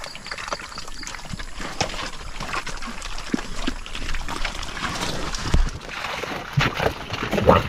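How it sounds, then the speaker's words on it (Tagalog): Weaned pigs on a free-range farm, with goats nearby, make scattered grunts, shuffling and rustling against steady outdoor background noise. The sounds are moderately close and irregular. "Mga inuhing baboy, tapos may kambing din tayo dito."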